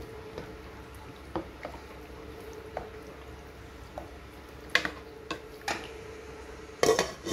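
A spoon scrapes and clinks against a pot as minced meat and water are stirred for shami kabab, with scattered metallic taps and soft squishy sounds over a low background hum.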